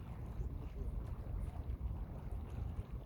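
A ferry crossing the wide Danube river between Bulgaria and Romania at Oryahovo, heard as a continuous low engine and water rumble with wind buffeting the microphone, steady and fairly loud, without talk.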